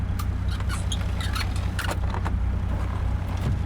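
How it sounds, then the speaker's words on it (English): In American Truck Simulator, a short series of small mechanical clicks and rattles from a truck window crank repeats over a steady low hum of a Caterpillar 3406B engine. "You actually hear the you know, the sound of a window crank going"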